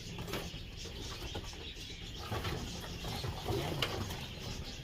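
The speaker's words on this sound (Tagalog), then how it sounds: "Mailap mga kalapatids, mailap sila." Racing pigeons inside a loft, with faint cooing, soft wing flutters and scratchy scuffling and clicking movements from the birds, quiet and close, continuing for several seconds without speech.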